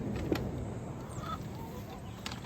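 Hens emerging from their coop in the morning cluck softly and sporadically in short calls against a steady outdoor background hum.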